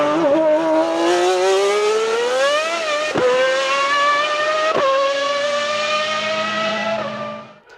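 A Lamborghini Aventador with a V12 F1-style exhaust revs hard, a loud screaming engine note climbing and falling in pitch with a few sharp gear-shift breaks before fading at the end.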